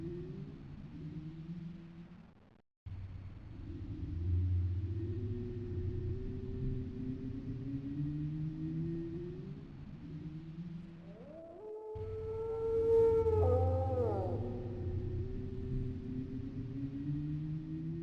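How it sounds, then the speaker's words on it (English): Eerie ambience from the horror video game D: a low, stretched, distorted bestial moan drones throughout, and a sharper, wavering howl rises and falls partway through, sounding distant. No voices. "I realized was a low, bestial moan stretched and distorted. Every once in a while, a sharper howl could also be heard in the distance."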